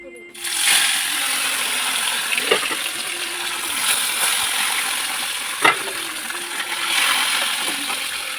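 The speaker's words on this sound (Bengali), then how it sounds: "এবার মাছ ভাজাটা আমি বসিয়ে দিই" Fish goes into well-heated oil in a home kitchen. A loud, continuous hiss of frying starts almost at once and carries on steadily, with a few metallic clinks from the pan along the way.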